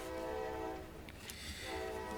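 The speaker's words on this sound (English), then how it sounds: "We got the train. This is a regular occurrence here." A train rolls past a council meeting room with a sustained horn blast, steady rumble and tonal whistle layers, heard at a moderate distance indoors without speech.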